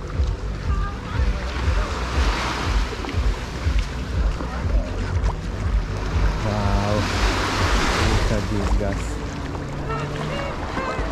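Sea waves wash ashore at Super Paradise Beach on Mykonos, Greece, a steady loud surf with wind buffeting the microphone and someone talking over it.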